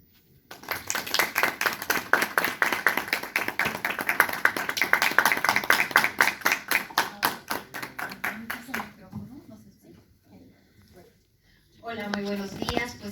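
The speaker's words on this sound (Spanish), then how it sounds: "Recibamos a la doctora Isabel con un caluroso aplauso" A conference audience claps steadily to welcome a speaker, rhythmic and moderately loud for about eight seconds before fading out, followed by a speaking voice after a short pause.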